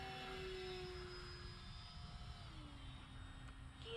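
Model FMS Typhoon RC jet making a fast pass with gear up, a faint steady whine of the ducted-fan engine with pitch sliding downward as it passes at a distance.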